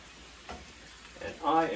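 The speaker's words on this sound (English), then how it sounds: "Once you can see the sear just starting to rise up the side of the steak," Kangaroo steak searing in a hot pan, a short soft sizzle that swells louder toward the end, where a voice briefly joins in.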